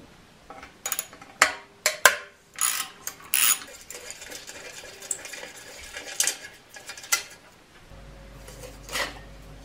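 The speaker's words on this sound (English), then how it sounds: "the first thing we're gonna do is just remove these four Allen bolts that are holding the tip cover on" Metallic clinks and rattles of Allen bolts being undone and removed from the exhaust tip cover of a Yamaha Tenere 700, sharp scattered taps and small scrapes close by, with a low hum entering near the end.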